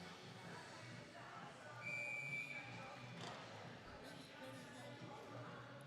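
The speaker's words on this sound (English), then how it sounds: "There's the whistle." A referee's whistle at a junior varsity ice hockey game, one clear, shrill blast lasting about a second, sounding through rink crowd noise and an ongoing commentary voice.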